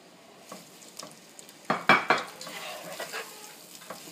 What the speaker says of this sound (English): I'm going to add the thinly sliced onions to the oil and fry them till golden brown